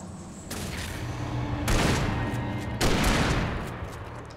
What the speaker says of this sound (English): You're shooting a tree.